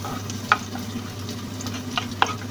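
Garlic sautéing in olive oil for a homemade pasta with ground meat, a soft steady sizzle broken by a few sharp clicks of stirring utensils against the pan.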